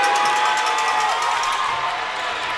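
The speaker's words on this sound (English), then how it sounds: "The crowd's getting into it." Gym crowd at a high school basketball game cheers loudly after a made 3-pointer, a dense sustained roar with shouts and whoops that holds steady and eases slightly toward the end.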